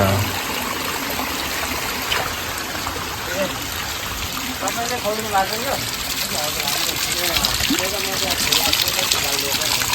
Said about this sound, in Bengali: এখানে জল জমা হচ্ছে মানে পাইপ থেকে যাচ্ছে